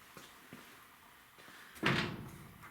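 A VW Bay Window bus passenger-side door swings shut with a single solid thud and brief metallic rattle near the end, after a few faint knocks in a quiet garage.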